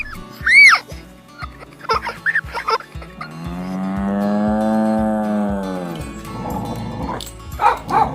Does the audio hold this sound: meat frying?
no